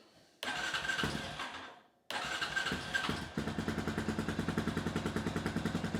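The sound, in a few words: Honda TRX350TM ATV starter cranking the engine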